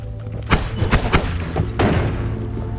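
Several heavy thuds and booms from thrown grenades going off in the video game Noita, four or five loud close blasts in quick succession over a low rumbling background.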